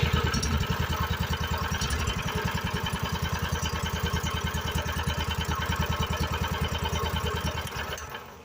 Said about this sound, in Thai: แล้วบิดกุญแจ พร้อมทั้งบิดคันเร่งช่วยนะครับ